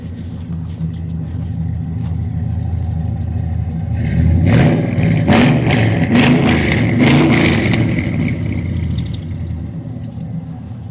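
A classic car's engine, likely a Corvette engine, idles with a low rumble, then revs up in several loud bursts through the exhaust before settling back to idle.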